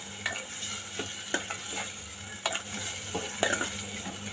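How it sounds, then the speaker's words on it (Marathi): Ginger garlic paste and ground masala fry in oil for a spicy vaal papdi and potato vegetable dish, with a soft steady sizzle broken by repeated close spatula scrapes and stirs. "हा मसाला आपण ह्या तेलामध्ये आता पूर्ण व्यवस्थित फ्राय करून घेऊया"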